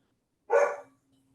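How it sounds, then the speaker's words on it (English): Household dogs let out a single short bark from a few steps away, loud and alone over near silence. "Our dogs are barking at each other."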